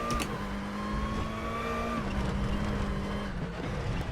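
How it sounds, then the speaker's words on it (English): A WTCC 2014 touring race car's engine drones at steady revs on the Macau street circuit in RaceRoom, a clear sustained tone that dips slightly as the throttle eases, with faint tire and road noise underneath. "Using a bit of throttle just to drag the car around again."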